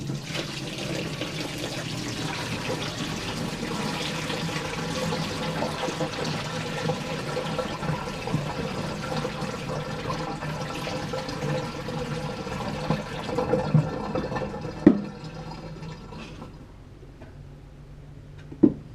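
Water runs steadily over a Fluval 206 aquarium filter canister as it is rinsed out, a continuous splashing flow with a few sharp knocks near the end before it stops.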